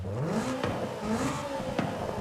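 A car engine fitted with a sport intake revs in Forza Horizon 5, its pitch sweeping up and down in repeated pulls, loud and steady throughout with a few short clunks as gears shift.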